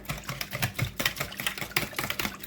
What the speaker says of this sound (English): the recipe calls for 2 eggs, but I decided to do 3, and 1 cup of half and half. And I'm going to whisk this together.